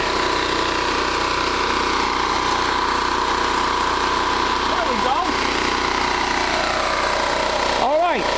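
A repaired portable generator engine runs at a steady, even drone with no rise and fall in speed, loud and close, with a couple of short whine-like sweeps near the end.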